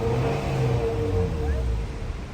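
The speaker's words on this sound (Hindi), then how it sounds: "गाड़ी रेस ले रही है" A car engine revs after starting, following an ECM terminal fault repair, producing a loud, steady low engine drone with a slight pitch rise and fall and no speech over it.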